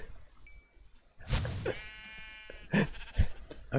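Sheep in the Minecraft video game bleat several times, short nasal wavering calls close by, with a few clicks and thumps from gameplay and some brief faint talking in the background.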